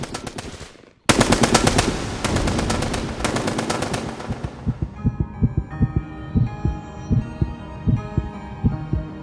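A loud burst of rapid machine gun fire erupts after a quiet moment, then slows into evenly spaced heavy thumps that gradually fade.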